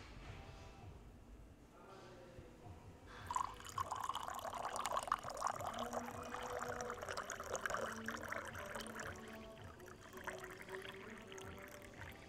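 Coffee poured into a cup of frothed milk: a soft liquid pour starting a few seconds in and running steadily under quiet background noise.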